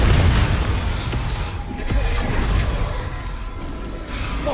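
Dense, booming Confringo fire-spell blasts from Hogwarts Legacy roll through a loud, busy combat mix, with low rumbles and bursting impacts that sustain without pause across the few seconds.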